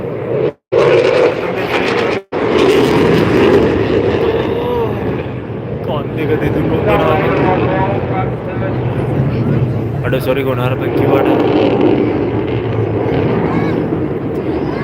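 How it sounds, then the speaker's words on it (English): A jet aircraft roars past at the Blackpool Airshow, pushed to max reheat: a loud, sustained engine rumble that swells and shifts over several seconds, with people chatting nearby throughout. "Now watch as he positions the aircraft back around, heading back into crowd center, pushing the jet to max reheat"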